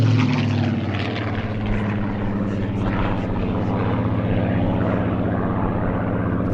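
A historic propeller aircraft of the Battle of Britain Memorial Flight drones steadily overhead, a loud continuous engine roar with a low throbbing hum that holds level throughout.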